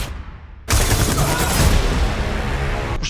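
Gunfire during an escape shootout, a sudden loud burst of rapid overlapping shots and booms that kicks in after a quieter lead-in and rattles on densely until cutting off.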